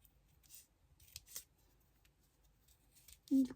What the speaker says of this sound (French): j'ai pas bien découpé